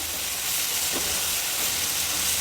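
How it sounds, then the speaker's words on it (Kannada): Tamarind gojju with vegetables, onion and garlic fries in a pan with a steady, even sizzle that holds at close range throughout, with no talking. "ಹುಣಸೆ ರಸ ಹಾಕಿರೋದ್ರಿಂದ ಇದನ್ನು ಸ್ವಲ್ಪ ಹೊತ್ತು ಫ್ರೈ ಮಾಡಬೇಕಾಗುತ್ತೆ"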